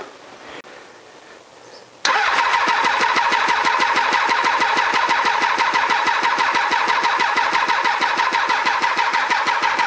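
A Honda CBR1000F motorcycle engine cranks after a short quiet lead-in, the starter churning in a loud, fast, steady rhythm without catching for about eight seconds.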